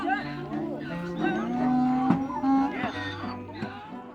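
Donkeys at a crowded Xinjiang donkey bazaar let out loud, drawn-out braying calls that overlap and rise and fall, over background chatter from traders.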